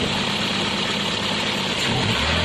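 A Toyota Vios engine idles steadily, checked for misfire, a continuous close rumble with a slight shift in tone near the end and no voices.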